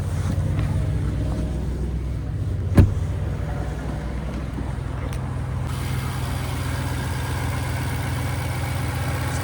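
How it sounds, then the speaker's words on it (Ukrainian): An Audi RS6 engine idles with a steady low rumble continuously, with one brief sharp knock partway through. "Звук просто шикарний від тої машини, більшого не потрібно."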